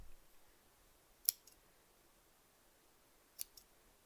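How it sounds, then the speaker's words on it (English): Small scissors snip embroidery thread loops on a koala zipper pouch, two faint, crisp cuts a couple of seconds apart, each with a tiny follow-up click, in a quiet room. "I'm gonna go and trim all these loops"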